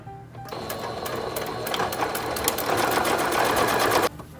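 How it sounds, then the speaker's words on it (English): A sewing machine stitches a seam closed on a homemade pillow insert, a fast steady mechanical whirring run of about three and a half seconds that stops abruptly. "just go back to your machine or by hand, whichever you'd prefer, and we're going to close up this seam"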